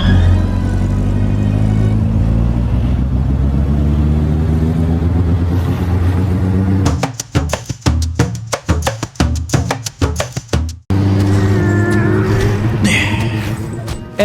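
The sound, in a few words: car driving in video game Lord of the Rings Online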